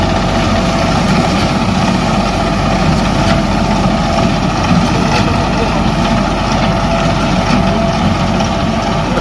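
Tractors and harvesting machines cut wheat in a field in Dadyal, Azad Kashmir, their engines making a steady, loud, unbroken rumble throughout.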